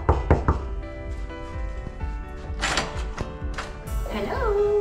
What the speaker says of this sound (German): Ich klopfe mal.